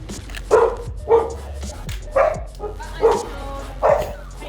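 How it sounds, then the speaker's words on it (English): A dog barks outdoors around sunset, five or six evenly spaced woofs at moderate distance over a low steady background hum. "Dog was barking."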